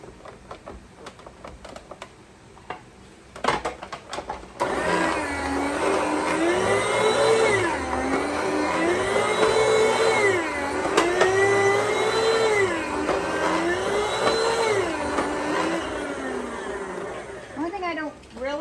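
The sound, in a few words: meat slicer slicing ham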